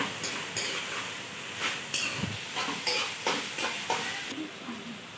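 Tomatoes and turmeric in a hot pan are stirred with a spoon, giving rhythmic scraping strokes over a steady sizzle and hiss.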